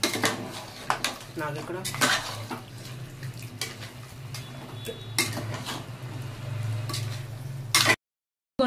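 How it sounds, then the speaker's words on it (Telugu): Metal utensils clatter and scrape against a pot of mutton curry with tomato and salt in irregular bursts, with a steady low hum and some running water in the background. "ఇవన్నీ తిప్పుకోవాలండి."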